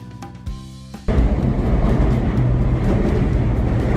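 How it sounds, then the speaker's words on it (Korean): A train rolls along a railway bridge directly overhead, above an old arched green steel underpass in the Cheongpa-dong neighbourhood; after a few light knocks, a loud, dense rumble suddenly sets in and continues without letting up. "머리 위로 들려오는 철길 위 기차 소리는 마치 기억의 문을 여는 신호음 같습니다"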